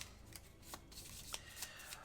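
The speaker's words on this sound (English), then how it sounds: "I'm just going to shuffle these up, and these are for the monsters" A deck of modifier cards for a Gloomhaven board game is shuffled: soft, faint riffling and tapping in several small bursts, close but quiet.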